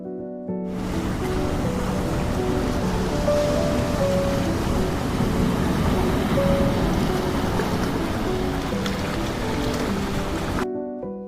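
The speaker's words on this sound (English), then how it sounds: "Along the border between Brazil and Argentina lies one of the most magnificent wonders on the planet, the Iguazu Falls." Roaring falling water of Iguazu Falls, a vast system of cascades on the Brazil-Argentina border, a dense, steady broadband rush that holds loud and unbroken from start to end, with no voices.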